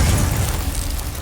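A Confringo explosive spell bursts in Hogwarts Legacy, one loud, dense blast rumbling steadily for over a second with no voices.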